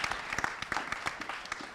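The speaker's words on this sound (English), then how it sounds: "Round of applause for the panelists" An audience at a customer success meetup applauds the panelists, giving a dense, steady patter of many hands clapping together, fairly close and even, with no talk over it.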